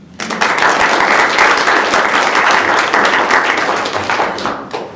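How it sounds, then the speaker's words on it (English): School board meeting audience giving a round of applause for uniform donors, loud, dense clapping starting abruptly and holding steady before easing off at the end. "Please let's give another round of applause for our donors."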